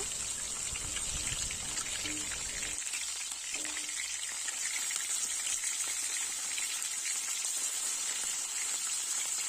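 Tilapia fish pieces fry in oil, a soft continuous sizzle with a lower rumble in the first few seconds that then thins to a quieter, even crackle.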